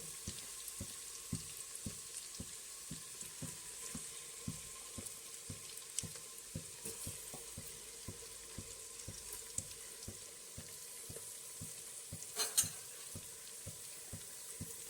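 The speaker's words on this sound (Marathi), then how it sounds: "मटण पूर्ण तेलामध्ये मिक्स करून घेऊ दोन तीन मिनटे तेलामध्ये परतलून घ्यायचं मटण चांगलं" Marinated mutton frying in hot oil for a goat mutton curry, a steady quiet sizzle under regular scraping strokes of a spoon stirring the pan, with a brief louder clatter near the end.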